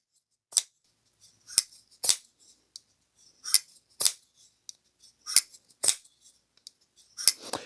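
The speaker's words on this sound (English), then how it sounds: "when it comes to the action on this knife, you could hear it" OKnife Xen-OAL folding pocket knife with a lightweight aluminum handle, its blade action producing a series of sharp, crisp clicks and snaps spaced irregularly, close and clear with no talk.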